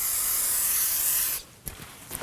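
A long, steady hiss of brake parts cleaner spray, close and loud, stops abruptly and is followed by a few faint clicks and taps, during rear parking brake work on a 2016 Kia Sorento.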